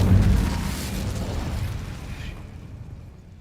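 Incendio fire spell cast in Hogwarts Legacy, a loud explosive burst that flares up at once, then rumbles and decays over about three seconds into quiet.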